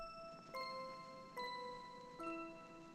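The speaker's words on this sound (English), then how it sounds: "it's the Xenology Bell preset" Xenology Bell synth preset in an FL Studio beat strikes three clean, ringing bell notes at an even pace, each with a sharp attack and long shimmering decay, soft and alone.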